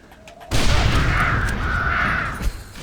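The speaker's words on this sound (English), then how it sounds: "Scare the crows out of the silo." A flock of crows bursts into loud cawing out of a silo in the Red Dead Redemption game, a dense rush of calls and flapping starting abruptly and sustaining for about two seconds before thinning out.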